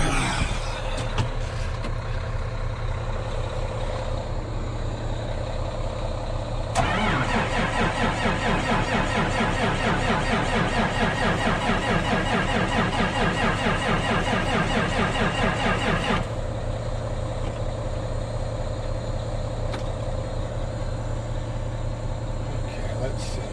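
The frosted-up diesel engine of an old farm machine cranks and fires after its glow plugs are used, then runs loud and close with a steady rumble for about ten seconds before shutting off, with talk heard around it.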